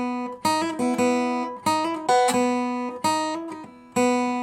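An acoustic guitar picks a short riff, with crisp plucked notes and quick pull-offs in a repeating pattern, each attack ringing and decaying cleanly with no voice over it.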